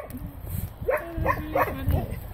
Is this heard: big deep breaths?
no